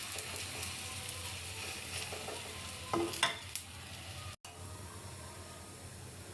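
A carrot, potato, egg and flour pancake frying in oil in a pan, with a steady soft sizzle and a couple of brief scraping stirs midway, close and fairly quiet.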